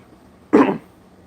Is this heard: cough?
yes